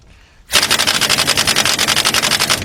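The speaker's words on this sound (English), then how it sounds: "that's why I'm using the air gun to get that on" Pneumatic air impact gun hammering on the hub bearing of a 2005 Nissan Titan 5.6 front wheel: a sudden loud, rapid rattling burst that starts sharply and runs continuously, close and harsh.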